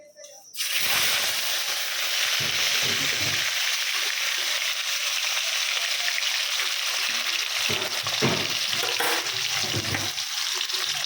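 Catla fish, salted beforehand, fries in hot oil with a loud, steady hiss and crackle that starts abruptly and continues close throughout, with a few brief surges in intensity.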